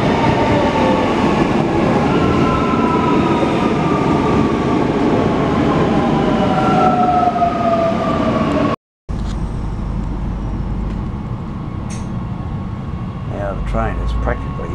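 A six-car 25,000-volt AC electric multiple unit train on 3'6" gauge track in Sandgate, heard as a loud, steady interior rumble with rising and falling motor tones, interrupted by a brief gap.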